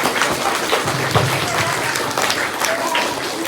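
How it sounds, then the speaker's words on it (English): An audience at a school maths quiz competition claps loudly and continuously throughout, with a dense, close round of applause and a few voices mixed in. "Clap for ma'am."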